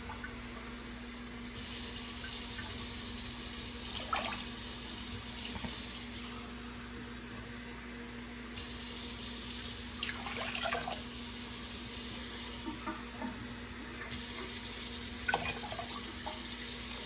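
Tap water pours into a pot for sugar syrup, a steady splashing stream that runs in several bursts with short pauses between them, close and clear with no talking.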